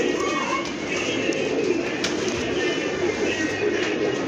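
Pigeons coo softly and continuously against a steady, noisy outdoor background with no clear pauses.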